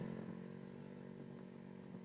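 A 166cc motorcycle engine running steadily with a continuous droning hum and a low buzzy tone, fairly quiet and unchanging throughout, with no voices.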